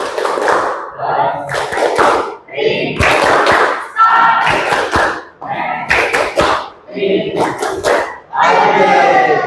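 A school class does a rhythmic clapping chant during a lesson on network topology: loud bursts of voices chanting in unison, punctuated by sharp group claps in a repeating pattern.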